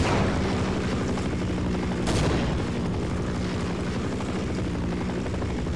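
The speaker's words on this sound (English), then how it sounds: "Oh, there's the plane still." An aircraft from the Half-Life video game, in the Surface Tension chapter, roars loudly and continuously as a dense engine rumble, with a sharp burst of gunfire or impact partway through and no talking.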